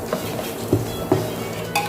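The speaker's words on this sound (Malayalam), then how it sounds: "ഇനി നമുക്ക് ഇതിലേക്ക് പൊടികൾ ചേർത്ത് കൊടുക്കാം." Turmeric, Kashmiri chilli, chilli and coriander powders sizzle in a pan for beef curry as a spoon stirs and scrapes, with a steady frying hiss and several distinct scraping strokes close up, no voices.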